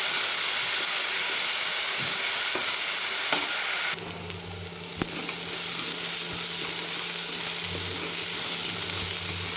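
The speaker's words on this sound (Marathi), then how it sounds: "आपल्याला आता कांदा छान एकदम गुलाबी कलर येईपर्यंत आपल्याला परतून घ्यायचा आहे" Onion paste frying in oil in a pan for rajma, a loud, steady close sizzle with stirring scrapes and a brief dip midway, no voices.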